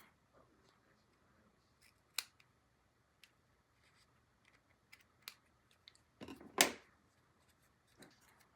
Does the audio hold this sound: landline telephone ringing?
no